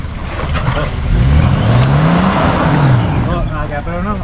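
A 4x4 engine strains and revs while the vehicle reverses at a bush campsite in Walhalla, a loud, close, rising and falling motor drone with people talking over it.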